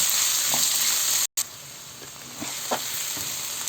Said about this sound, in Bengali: গরম মশলাটা একটু গরম হলেই আমি দিয়ে দেব পেঁয়াজ কুচি।